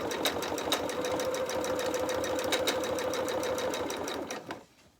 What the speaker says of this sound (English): If you can hear my bobbin making funny noises, it's because it's a thicker thread, so it's just objecting slightly.